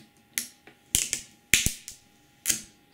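Protective film is peeled off a TomTom Start 50 navigation device, making a few sharp crackling snaps and clicks at irregular intervals, close and fairly quiet, with near-silence between them.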